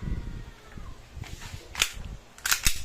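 EC Glock 17 airsoft pistol being test fired, a few sharp close cracks, two in quick succession near the end, over faint background noise.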